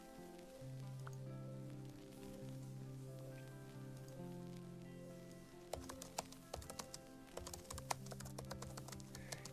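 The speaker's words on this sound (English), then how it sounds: "Keyboard typing." Computer keyboard keys clatter in quick, irregular bursts that start partway through, over soft, steady background music, with no voices.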